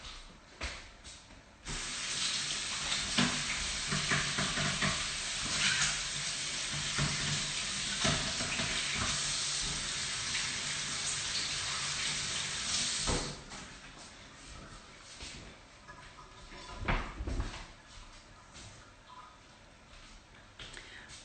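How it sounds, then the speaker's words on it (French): Running water splashes over hands being washed at a bakery sink, a loud steady spray that starts after a brief pause and continues for about eleven seconds, then gives way to quieter handling noises and thumps. "Je vais me laver les mains et je reviens"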